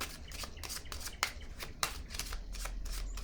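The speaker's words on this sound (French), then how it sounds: "Je peux déposer une autre carte." Tarot cards are handled and laid down on a table, giving a quick series of soft, crisp paper slaps and shuffling rustles, close and fairly quiet.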